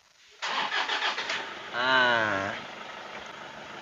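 A Toyota Kijang Innova with the 2KD diesel engine cranks briefly, catches with a loud rattly start, revs up, then settles into a steady clattering idle close to the microphone; someone speaks a short word at the start.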